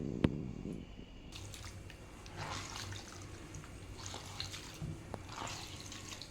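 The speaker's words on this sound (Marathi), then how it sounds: "ही भाजी आता मी छान धुवून घेणार आहे" Wild leafy greens (ghol, a wild vegetable) washed in water, with soft trickling, splashing and dripping, fairly quiet and steady throughout.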